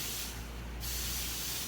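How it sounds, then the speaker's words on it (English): Pam Saute Grill cooking spray hisses out of the can in one continuous close spray lasting under two seconds, with no talk. "we like using the Pam Saute Grill Spray"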